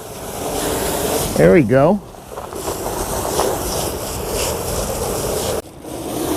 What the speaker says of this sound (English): So I'm going to go ahead and rinse this off.